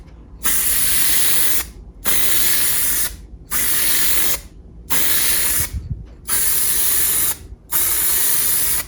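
Spray painting a Nissan Titan headlight trim with an aerosol can: six loud, close hissing bursts, each about a second long, with brief silent gaps between them.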